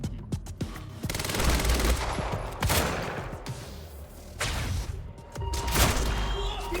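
Rapid automatic gunfire in the shooter Quantum Break comes in loud, close bursts, separated by sharp single shots and brief pauses.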